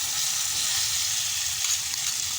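Marinated chicken frying in oil in a pan, a steady, loud, close sizzle with an even hiss throughout and no voices.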